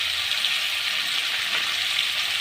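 Tomatoes with turmeric and salt fry in a pan, giving a steady, bright hiss of sizzling that stays even and close throughout, with no talking.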